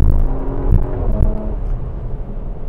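A Porsche Macan GTS accelerates hard out of a corner, its engine giving a loud, steady low rumble that swells slightly as it pulls, heard from inside the car with no talk.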